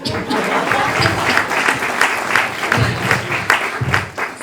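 Applause from a student club audience at an awards night, a fairly dense patter of clapping that rises and falls while someone keeps talking over it.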